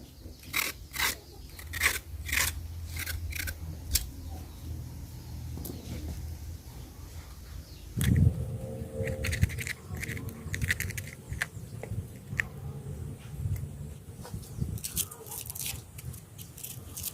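Chayotes peeled by hand in an African village, with sharp repeated scraping strokes early on, then rustling handling and irregular scraping knocks that continue at close range.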